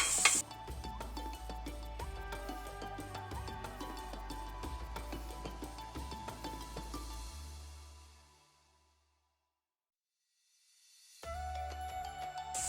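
Ginger and garlic sizzle and crackle in hot oil in a pot for an African-style chicken and yam dish. The steady frying cuts out into near-silence for a few seconds, then returns.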